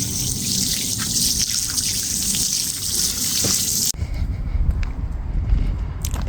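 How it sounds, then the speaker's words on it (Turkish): Water poured out in a village home, a steady broadband wash that stops abruptly partway through, leaving quieter room sound with a few faint drips. "Bunu su dökeceğim."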